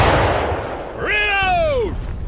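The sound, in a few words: volley of rifle fire in War of Rights video game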